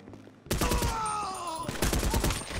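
Rapid automatic gunfire rings out in GTA Online, a dense close burst of shots that starts abruptly after a quiet moment and continues to the end.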